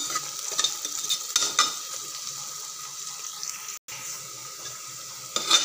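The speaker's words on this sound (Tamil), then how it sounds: "செவந்த நிறம் வர வரைக்கும் வதக்கி விட்டுக்கோங்க" Onions sauté in a pan for chicken biryani, a steady close sizzle with scraping stirs and light clinks, briefly cutting out for an instant before resuming at the same level.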